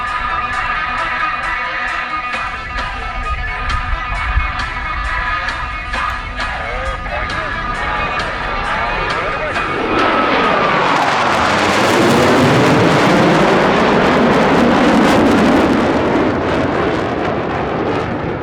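US Navy Blue Angels jets flying brake turns at the 2023 NAF El Centro airshow: a distant roar swells after a few seconds into a loud, rushing jet pass that keeps booming and fades slightly at the end.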